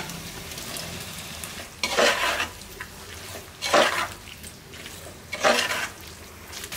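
Prawns stir-fried in a pan for prawn biryani, with three loud bursts of scraping and sizzling from stirring over a steady low frying hiss, no talk.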